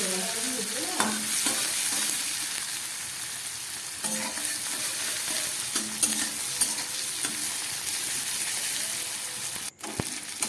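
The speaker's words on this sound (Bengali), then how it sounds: "এবার পেঁয়াজ ভেজে নিচ্ছি" Onion, green chilli and tomato frying in hot oil in a pan, a steady close sizzle with repeated scraping stirs of a spatula, continuing until a brief pause near the end.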